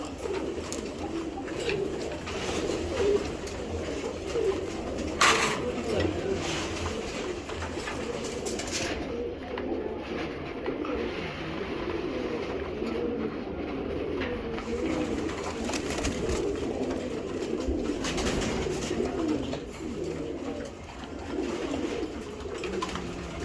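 Racing pigeons coo in a steady low murmur throughout, several birds overlapping close by with continuous soft rolling calls at an even level.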